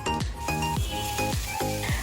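Onions dropped into hot white oil with black cumin seeds in a Bengali home kitchen, a steady close sizzle with repeated clinks and stirring strokes about every half second.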